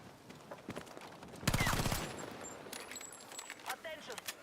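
Video game gunfire, played on a Steam Controller, comes as one loud burst of rapid automatic shots lasting about half a second, with someone talking before and after and scattered quieter game noises.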